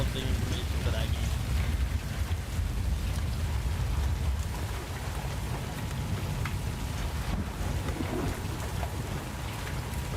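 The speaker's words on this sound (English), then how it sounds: "We got a lot of hail right now." Hailstorm in the Roblox storm-chasing game Twisted: a dense, steady roar of hail and rain pelting surfaces, with a deep low rumble and constant crackling patter at high level throughout, brief sharp ticks scattered on top.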